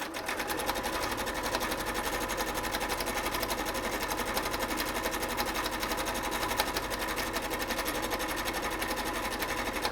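A sewing machine stitches a fabric mask in one steady, unbroken whir of rapid needle strokes, close and even throughout with no pauses or talk.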